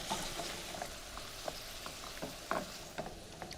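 Seafood gets stirred into a simmering sauce, giving a soft, continuous sizzle and bubbling with scattered light clicks and scrapes from the spoon. It is close and fairly quiet, with no talk.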